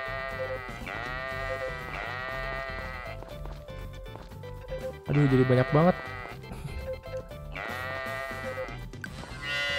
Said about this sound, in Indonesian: Kambing mau aku potong dulu nih bulunya nih.